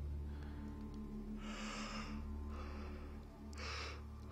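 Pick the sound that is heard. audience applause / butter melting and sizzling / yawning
yawning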